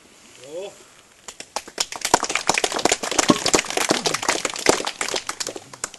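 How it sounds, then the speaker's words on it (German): An outdoor audience claps for the charcoal burners at a charcoal-making event in the Frankenwald. A brief voice comes first, then many hands clap in a loud, dense, sustained burst. "Sie haben eben geklatscht"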